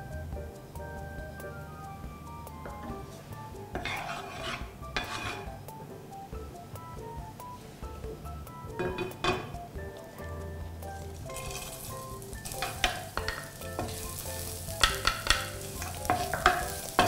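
Pork belly with dried chilies stir-fried for a spicy basil dish in a hot wok, with a steady sizzle punctuated by repeated scraping stirs and clanks of the utensil against the pan.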